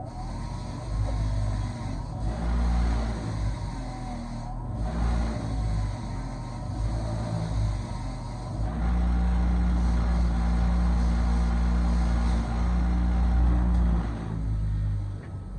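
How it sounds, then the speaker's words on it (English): Power-driven wire wheel cleaning a snowblower hex shaft on an Ariens Deluxe 28, a continuous loud motor whir and grinding rasp with slight dips and a louder stretch midway, close and sustained. "I'm just gonna hit that with the wire wheel"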